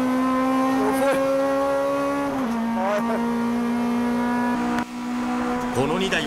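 Honda DC5 and S2000 race cars lap Tsukuba circuit, both 2-litre VTEC engines, revving hard with sustained high-pitched howls, gear shifts dropping the pitch, and a brief break near the end before the engines climb again.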